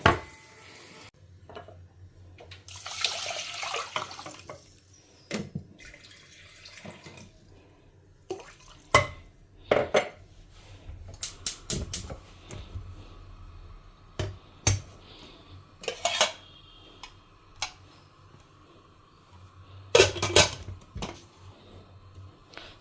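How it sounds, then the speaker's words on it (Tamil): A home cook transfers tamarind curry (vatha kuzhambu) into a bowl, with scattered clinks and scrapes of a ladle against metal vessels, soft liquid drips and pours, and occasional sharp knocks against a quiet kitchen background. "இப்போ குழம்பையுமே இந்த பவுலுக்கு ட்ரான்ஸ்ஃபர் பண்ணிடலாம்."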